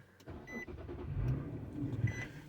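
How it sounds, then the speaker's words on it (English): An Infiniti V6 car engine starts with a low cranking rumble that settles into a smooth, quiet idle inside the cabin, accompanied by a couple of soft electronic chimes. "let me start the car."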